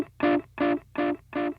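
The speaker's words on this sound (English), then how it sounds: "This is a pretty solid delay pedal." A distorted electric guitar tone through a delay effect in the Neural DSP Archetype Misha Mansoor X amp sim repeats four times at an even pulse, each echo about equally loud, with short gaps of near silence between.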